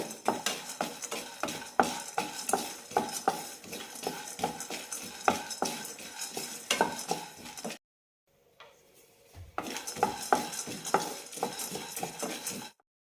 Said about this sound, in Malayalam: നന്നായി റോസ്റ്റ് ചെയ്യാം കടയിൽ നിന്നും വാങ്ങുന്ന നിലക്കടലാണ് എടുത്തിരിക്കുന്നത്